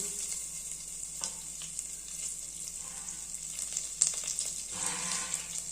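Pepper, cumin, curry leaves and ginger frying in a pan for barnyard millet pongal, giving a steady hiss with a few sharper crackles and a brief clatter, fairly quiet and close.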